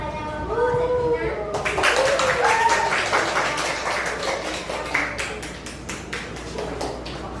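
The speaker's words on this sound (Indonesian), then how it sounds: "Beri tepuk tangan kepada kelompok Sertina." A classroom audience applauds a student group after its micro-teaching presentation on polishing; a voice speaks briefly before steady, dense clapping takes over and gradually thins out.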